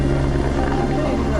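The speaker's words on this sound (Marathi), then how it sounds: "हा हेलिकॉप्टर बघा" A helicopter on the Kedarnath route beats loudly and steadily nearby, its low rotor thrum and engine drone filling the whole moment.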